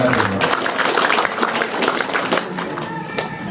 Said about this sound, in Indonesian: Tepuk tangan untuk tamu.